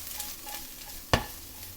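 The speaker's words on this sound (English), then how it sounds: "Mix this well a bit." A spoon stirs onion and garlic frying in oil in a pan for a beef dish, one sharp scrape of stirring standing out over a soft, steady sizzle.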